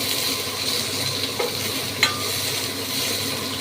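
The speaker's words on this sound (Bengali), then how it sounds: "দিয়ে আবার ভাজবো" Raw onion fries in a pan with fish oil for a fish-oil chorchori, a steady close sizzle with scraping stirs and a couple of sharp spoon knocks against the pan.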